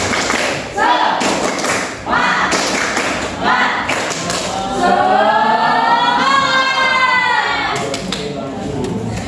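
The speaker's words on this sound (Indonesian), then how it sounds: "Oke, biar semangat dulu ya. Tepuk semangat." A classroom of students doing the rhythmic tepuk semangat spirit clap, bursts of group clapping and thumps in a patterned beat, then voices chanting together in a loud, close room.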